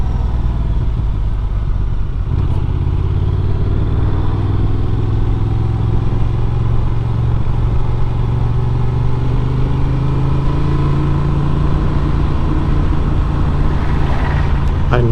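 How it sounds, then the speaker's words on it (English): A Honda Transalp 750 adventure motorcycle rides along with a steady, loud engine drone, its pitch falling and rising as it downshifts using the quick shifter, all under constant wind noise. "Downshifting with a quick shifter is excellent."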